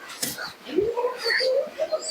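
Domestic Giribaz pigeons coo in a loft, a few soft, fairly close calls rising and falling over faint background sounds.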